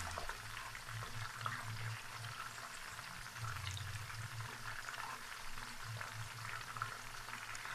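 Fish fries in a pan on the stove at full heat, giving a soft, steady crackle and gentle sizzle that carries on without a break.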